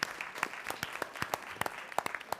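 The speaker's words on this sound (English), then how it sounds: "Why don't you for a round of applause?" A small audience at a school board of education meeting gives a round of applause for a student author, with sparse, distinct claps ringing out in an uneven patter throughout.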